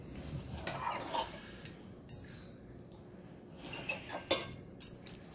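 A knife cuts into food on a plate, giving scattered light scrapes and clinks of metal on crockery, quiet and close with short gaps between them.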